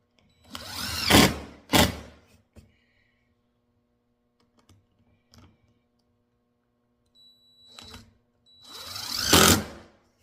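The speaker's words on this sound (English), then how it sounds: "you want to sink the screws just a little bit, not much" A power drill driving screws into wood for a DIY extension cord holder: two loud whirring bursts near the start and another near the end, close, separated by quiet handling clicks, with no talking.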